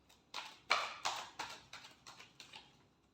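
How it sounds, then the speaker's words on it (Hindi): Tarot cards are shuffled by hand up close: about eight quick, soft papery slaps in a loose rhythm, quiet and alone. "Last shuffle."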